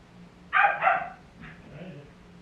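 Two quick barks from a dog downstairs, moderately loud but muffled by distance, followed by a fainter third bark trailing off.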